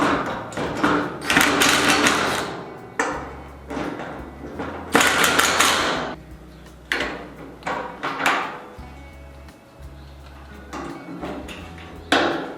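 Metal parts clank and thump as the lid is fitted onto a Royal Gourmet 24-inch charcoal grill during assembly, a loud run of close knocks and scraping rattles in irregular bursts.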